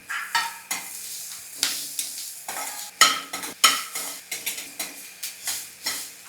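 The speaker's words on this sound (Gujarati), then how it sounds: "બે જ મિનિટ માટે મરચાંને એમને જ તેલમાં થવા દેશું" Green chilies fry in hot oil while a spoon stirs them in a pan. A steady close sizzle runs under repeated sharp scraping and clinking strokes at a brisk, uneven rhythm, with no one talking.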